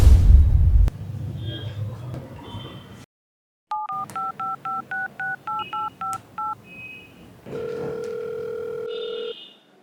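A telephone is dialed with a rapid series of keypad tones, one tone per pressed digit. A low rumble comes first, then the dialing, then a steady tone as the call connects. Everything sounds close.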